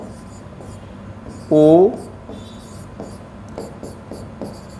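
Chalk or marker taps and scratches in short strokes as letters are written on a board during a Sanskrit class, with a brief spoken syllable partway through.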